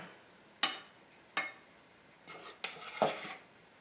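Spoon scraping and clinking in a pan as fresh chopped herbs and Parmesan are lightly folded into warm orzo, a few separate soft strokes with pauses between, close and quiet.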